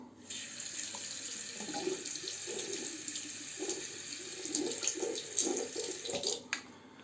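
A safety razor held under a running tap, with a steady close stream of water splashing in a sink and the flow shifting as the blade is turned and rinsed, with no voices.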